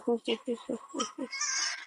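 Several short goat bleats in quick succession, close and fairly loud, followed by a brief higher cry.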